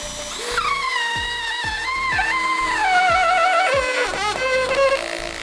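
A Dnipro-M CD-200BC Compact cordless screwdriver drives a self-tapping screw through a wooden workpiece, its motor whining in rising and falling pitch with a rapid ratcheting judder, then bogging and slowing near the end, loud and close.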